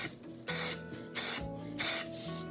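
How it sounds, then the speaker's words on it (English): Three short bursts of gold spray paint hiss from an aerosol can inside a bowler hat, each about a quarter second long, evenly spaced and close. "Bet you've never sprayed inside a hat before, hey?"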